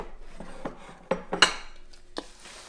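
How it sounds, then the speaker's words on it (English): A utensil stirs coconut oil into a granola mixture in a bowl, giving soft scraping rubs and a few sharp clinks against the dish, irregular and close. "Next thing is to stir in the coconut oil."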